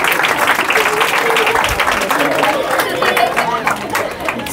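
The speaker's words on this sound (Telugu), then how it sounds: "వెరీ గుడ్, చప్పట్లు." A group of children clapping together in a classroom-style session, a short burst of fairly loud, dense applause with some chatter and movement underneath, holding steady before easing off at the end.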